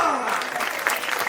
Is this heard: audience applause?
yes